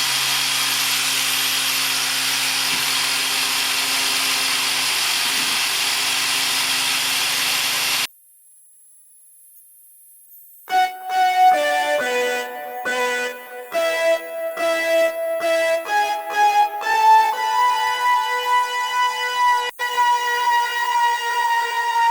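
Two Makita angle grinders, a 40V XGT and an 18V LXT, run together with a loud, steady, dense whirr for about eight seconds, then cut out abruptly; a brief silence follows, then tonal, music-like sounds.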